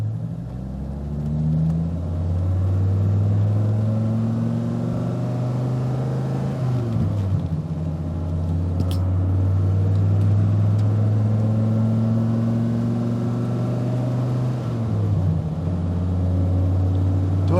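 A 2001 Dodge Viper RT/10 engine pulls away in first gear, a loud, steady low rumble that swells as it accelerates, drops briefly at a gear change near the middle and again toward the end, then resumes.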